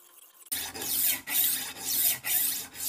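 Rolling knife sharpener working a blade on a 600 grit disc, giving loud close rasping grinding strokes in repeated sweeps with brief gaps between them, after a quiet start.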